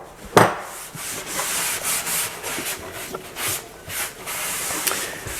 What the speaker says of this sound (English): I'm putting polyurethane